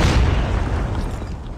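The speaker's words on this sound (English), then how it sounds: "Friendly predator missile inbound." A heavy, rumbling explosion from a predator missile strike in Call of Duty Mobile fills the short moment with a deep boom that slowly decays, loud and close.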